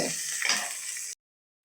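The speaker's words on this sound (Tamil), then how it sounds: "பொரிஞ்சதும் வெங்காயம் கருவேப்பிலை போடலாம்." Chopped onion and curry leaves sizzle sharply in hot oil, a steady close frying hiss with a brief stirring flare partway through, cutting off abruptly into silence.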